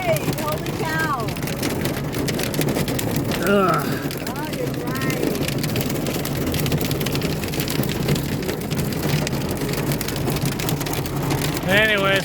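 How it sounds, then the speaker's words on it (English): Heavy hail pounding hard with dense rain, a loud, continuous roar of impacts close by throughout, with a few voices speaking over it and a short groan. "It's loud. Yeah, it's almost deafening. The sound of all the hail hitting."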